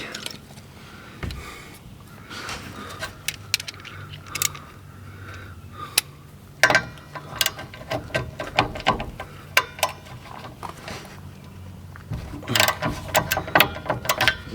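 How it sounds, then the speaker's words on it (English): A wrench works loose stubborn 5/8 or 11/16 nuts on a vehicle with failed brakes, giving irregular ratcheting clicks and sharp metallic clanks close by, with quiet gaps between turns. "By golly, they're gonna have to all be wrenched out."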